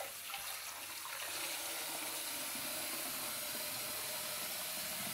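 Running tap water pours steadily while a soup chicken is rinsed under it in a home kitchen, a continuous close hiss with no talk.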